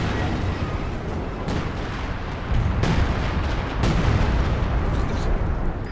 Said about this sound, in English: artillery flare has been called on in